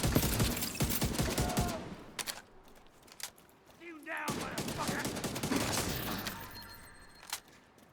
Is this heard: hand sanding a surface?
no